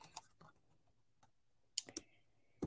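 A computer mouse clicks a few times in quick succession near the end, sharp and close, after some fainter scattered ticks in a quiet room.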